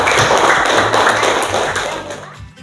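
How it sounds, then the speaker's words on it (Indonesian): Classroom of secondary school students clapping after a student presentation, a dense continuous patter of many hands that fades out near the end. "Tepuk tangan untuk Theodora."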